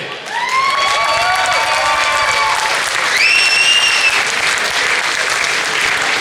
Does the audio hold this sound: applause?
yes